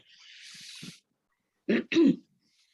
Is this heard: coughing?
yes